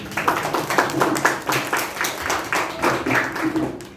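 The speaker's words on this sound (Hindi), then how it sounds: "तो एक बार फिर बच्चों के लिए ताली" Audience clapping for children after a Chhattisgarhi Nacha folk theatre performance at a drama school in Bhopal, a steady patter of many hands with rhythmic pulses, moderately loud and close.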